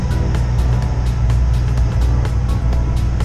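A semi truck pulls its trailer ahead while backing to a loading dock, its engine a loud, steady low rumble throughout with a faint repeating tick above it.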